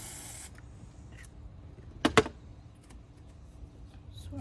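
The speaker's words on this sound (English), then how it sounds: "we're going to use some WD-40 to loosen it up" WD-40 sprayed onto corroded bolts on a 2002 Ford Focus power steering pump, heard as a couple of short close hisses in an otherwise quiet space.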